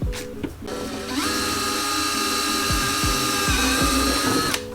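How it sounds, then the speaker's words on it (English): A power drill bores a hole for an Eglide Ultra Brace on a motorcycle Tour Pak, its steady high whine running for several seconds with small knocks and clicks underneath before it stops. "It says to go ahead and drill the other hole."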